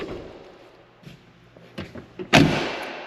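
Hood latch of a Chevrolet K10 truck being released and the hood popped open, a few light clicks and knocks building to one sharp metallic thump, then a fading ring.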